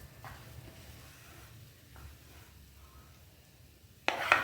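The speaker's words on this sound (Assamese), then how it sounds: "নাৰিকলখিনি হাই, মিডিয়াম আৰু ল' মিডিয়াম কৰি ভাজিবলৈ মোক মোটামুটি 15 মিনিটমান সময়ৰ প্ৰয়োজন হ'ল।" Grated coconut fries and is stirred in a pan, giving a low, steady sizzle with soft scraping. A sharper, louder clatter comes near the end.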